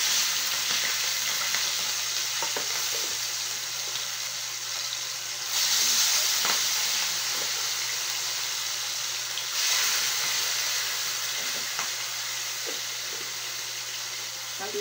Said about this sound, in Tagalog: Nag-uumpisa na po tayong